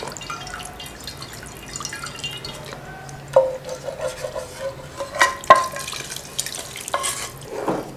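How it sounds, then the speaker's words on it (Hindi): Mutton stock (yakhni) is poured into a pot of haleem with cooked mutton and ground lentils, giving soft wet splashes and gurgles over a low simmering hiss, with a few louder sloshing bursts toward the end. "ये जो यखनी है ना ये भी डाल दें"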